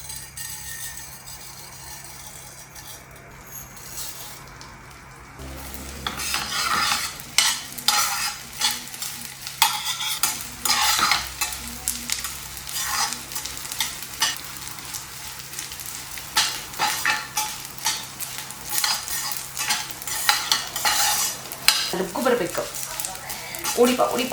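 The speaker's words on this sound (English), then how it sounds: "I use the entire leftover desi ghee to fry edible gum." Edible gum fries in leftover desi ghee, starting with a soft hiss that grows into busy crackling and bubbling sizzle, punctuated by stirring scrapes against the pan.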